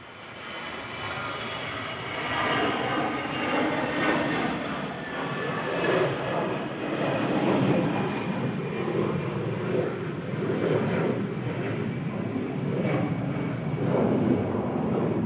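An EasyJet Airbus A320-200 takes off from Manchester Airport bound for Geneva, its engine roar a steady, broad rumble that swells and holds fairly loud for the whole stretch, with no voices over it.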